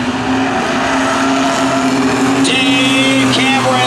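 Dirt track race cars racing at Beech Ridge: loud, sustained engine roar from a pack of cars with steady droning tone and a brief rising whine near the end, under an announcer's commentary.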